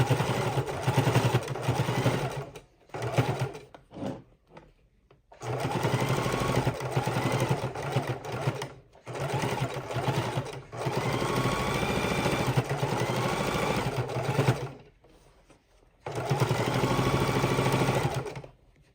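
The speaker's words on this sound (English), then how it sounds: "because I want that batting and that seam caught in that top stitch." A sewing machine runs top stitching around the edge of a quilted fabric soup bowl with batting, whirring in several steady bursts separated by short pauses, close and fairly loud.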